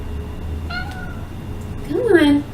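A pet cat meows twice, a short soft mew followed by a louder drawn-out cry, close to the microphone over a steady low background hum.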